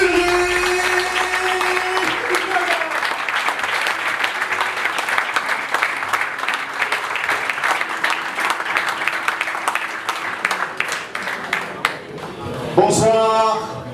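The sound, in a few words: audience applause for a speaker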